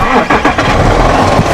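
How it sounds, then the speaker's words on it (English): A Volkswagen Touareg TDI diesel cranks and catches, then settles into a loud, gravelly, even rumble heard up close. "And there you go with that diesel engine."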